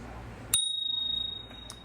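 A single bright ring from the bell on a Gotrax electric scooter, a sharp strike followed by a sustained decaying tone that fades over about a second, close and alone.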